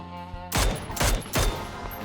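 Three loud gunshot blasts in the video game PUBG, evenly spaced about half a second apart, following a brief tonal musical tone.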